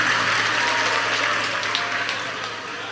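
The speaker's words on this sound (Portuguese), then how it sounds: "os que podem, tomem seu assento aplaudindo a Jesus" A church congregation applauds Jesus during a Sunday communion service, loud sustained clapping that fills the room and tapers slightly toward the end.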